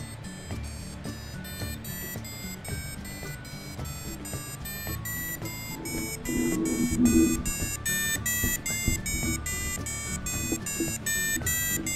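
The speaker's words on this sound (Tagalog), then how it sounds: "kung gusto nyo na ganyan lang ang tunog ng inyong buzzer, okay lang din naman" A series of short, high-pitched electronic beeps from an Arduino-driven buzzer repeats in a steady rhythm, faint and tinny.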